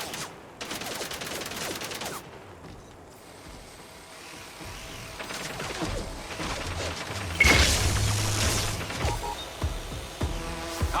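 Gunfire and stun weapons in the video game Mindseye, a dense run of shots and mechanical clatter with a loud burst around the middle, busy game noise throughout.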